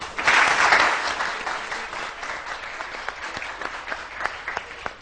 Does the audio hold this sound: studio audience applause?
yes